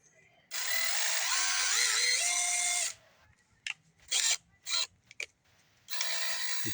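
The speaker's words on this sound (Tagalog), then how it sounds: "We use a drill bit." A handheld drill with a bit whirs in several bursts while working on a car's front hood spoiler, one long whining run followed by short, quick stop-start pulses and a final sustained spin, all close and alone.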